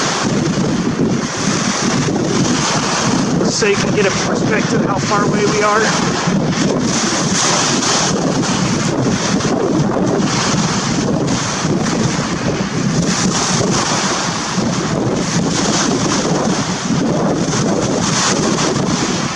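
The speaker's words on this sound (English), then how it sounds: "it's very windy right now, so I don't even know if you can hear me well" Strong beach wind buffets the microphone with a constant loud rumble, and the surf roars beneath it, while a person talks throughout.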